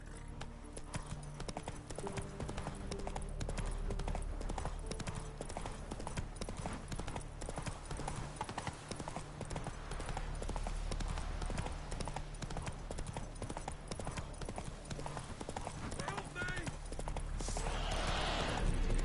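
Horse hooves clip-clop steadily in The Witcher 3 on PS5, a near, continuous rhythmic trot over a dense bed of game ambience and music, with a brief whinny-like texture and no clear talk.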